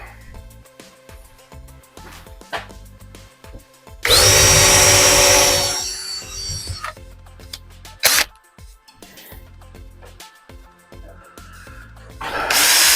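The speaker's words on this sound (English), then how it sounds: "Drill another hole." A power drill whirs loudly for about two seconds as it bores a hole into wood while installing an air hose retractor, with a brief second burst later amid quieter clicks and handling noises.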